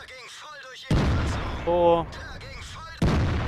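Two heavy cannon blasts from a Waffenträger auf E 100 tank destroyer in World of Tanks, fired at an E100 tank, the shots a few seconds apart with a player talking briefly between them.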